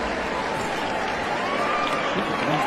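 Excited crowd at a tennis match cheering and roaring loudly and continuously, a dense wash of many voices with a faint whistle-like tone drifting through it.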